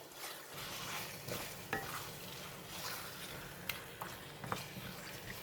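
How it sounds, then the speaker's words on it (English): Marinated pork ribs stirred into curry in a pot, a steady close sizzle and frying hiss with scraping stirs and an occasional faint utensil tap throughout. "we're going to stir and make sure all this curry coat the meat well"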